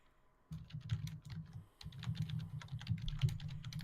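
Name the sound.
rapid typing on a computer keyboard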